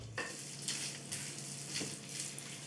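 Hot melted lard or butter poured over freshly made lámanky, giving a soft continuous sizzle and crackle with gentle stirring and scraping noises, fairly close and steady throughout.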